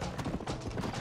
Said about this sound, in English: Oh god, the freaking horse.